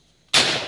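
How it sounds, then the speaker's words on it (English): A single sharp .410 shotgun blast goes off outdoors in Texas after near silence, loud and close, with a long decaying tail. "I'm going to be shooting a shotgun"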